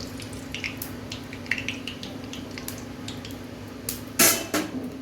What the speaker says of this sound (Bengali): করে চাউমিন ধোয়া হয়ে গেছে, এখন আমি জল ঝরা দিয়ে দেবো।